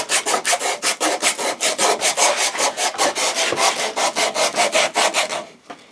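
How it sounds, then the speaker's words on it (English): Sandpaper rubbing back and forth on the wooden handle of a hand-built tripod, rounding its edges. The rasping strokes come in a fast, even rhythm, close and loud, with no talking, and stop abruptly near the end. "use some sandpaper here, because that's going to help round it out."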